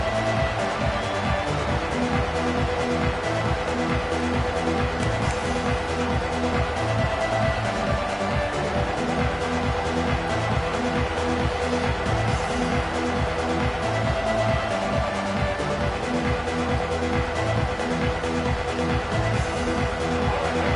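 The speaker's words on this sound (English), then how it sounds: "This crowd bringing an ear-splitting welcome to their visitors." Sustained roar of a stadium crowd in the college football video game NCAA Football 26, a dense, unbroken wall of noise with rhythmic, band-like pulses running underneath throughout.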